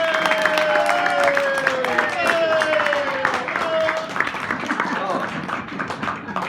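An audience at a talk on a Blackpool impresario applauds a speaker with steady, dense clapping and some crowd murmur and voices running through it.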